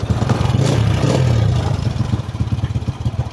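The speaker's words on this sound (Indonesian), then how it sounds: "ini kita coba nyalakan motornya, apakah berfungsi dengan normal atau tidak" A Honda Supra motorcycle running on a homemade AC CDI ignition without a pulser, idling close by with a steady, fast putter that stays loud and even throughout.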